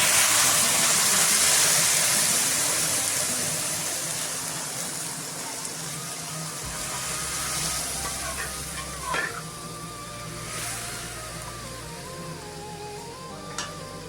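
Moong dal with drumstick leaves cooking in a pan, a soft, steady sizzle and bubbling with occasional clinks from stirring.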